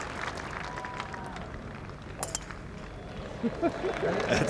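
A golf gallery on the tee at St Andrews during the 150th Open gives Lee Trevino a warm round of applause, moderate and spread out at a distance, with a voice speaking over the clapping.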